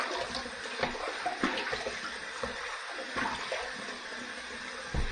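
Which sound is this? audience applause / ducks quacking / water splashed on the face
water splashed on the face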